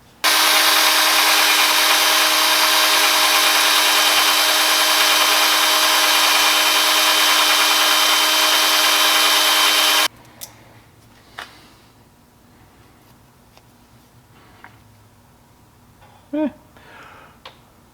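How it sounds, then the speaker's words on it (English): A brass wire wheel spins against a rusty part from a 2004 Honda Rebel CMX250C, making a loud, steady, dense grinding whir for about ten seconds before cutting off abruptly, leaving quiet clicks and small handling knocks. "I'm just going to use a little wire wheel and a brass wire wheel to soft bristle and see if that'll clean up"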